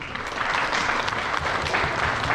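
A museum audience applauds steadily and loudly throughout, a dense wash of many hands clapping at once with no pauses.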